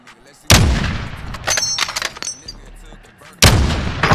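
Loud gunfire in the Warzone video game: two heavy blasts with rapid shots and metallic clatter between them, close and punchy, with players talking in the mix.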